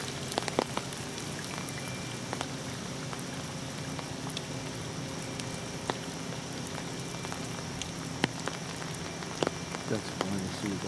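Heavy rain from Hurricane Irene at Farrington Lake, New Jersey, falls in a dense steady patter on surfaces nearby, with occasional louder drips, continuous for the whole stretch.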